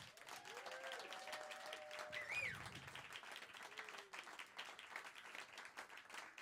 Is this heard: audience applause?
yes